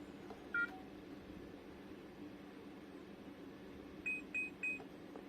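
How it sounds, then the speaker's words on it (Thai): Xiaomi Pro anti-theft alarm giving short electronic beeps: a single faint bleep early on, then three evenly spaced, clear beeps near the end over a quiet hiss. "หากได้ยินเสียงปี๊บปี๊บสองครั้งคือการเปิดระบบสัญญาณการขโมยนะครับ"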